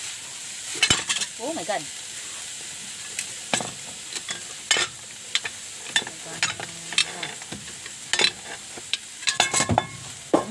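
Labong (bamboo shoots) fry in a pan while being stirred, with soft sizzling under repeated scraping and clattering utensil strokes, and a few brief voices in between.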